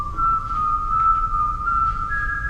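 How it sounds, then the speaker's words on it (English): A character whistles a cartoon theme melody in a Mickey Mouse horror film. The whistle is clear and sustained with a few pitch steps, prominent and close against a low background rumble. "Willie's even whistling the theme of the cartoon"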